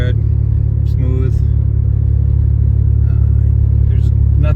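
A 1986 Mercury Cougar with a 3.8L V6 idles with a smooth, steady, deep exhaust rumble that stays close and loud throughout, with a brief voice-like tone partway through.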